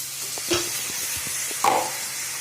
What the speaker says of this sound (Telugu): వేసి మరి కాసేపు వేయించుకుందాం.